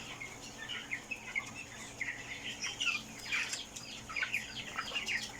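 Broiler chickens on a farm, 25 days old, give soft, overlapping clucks and chirps that rise and fall continuously over a steady low ambient hum.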